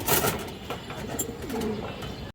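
A large black-necked female pigeon gives soft, low coos close by, over a faint background hiss.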